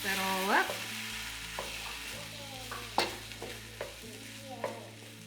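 Fried rice with soy sauce and sesame oil stirred in a hot pan: a steady sizzle under scraping spatula strokes and light clinks, close and moderately loud, with no voices.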